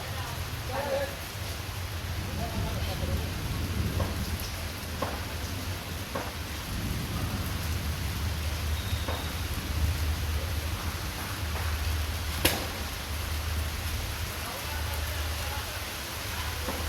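Steady rain hisses down in an even wash of noise, with a few faint drips and taps standing out now and then.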